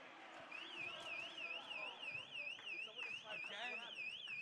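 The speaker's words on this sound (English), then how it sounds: "And the alarm goes off." Warbling electronic alarm sounding repeatedly in a gym during a basketball tournament game, a high rising-and-falling tone cycling steadily over crowd noise and distant shouts, with an announcer voice faintly underneath.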